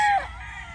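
A young banded gamecock stag, a Gilmore cross about six months old, lets out a single short crow at the start, close and fairly loud, trailing off into quiet background noise.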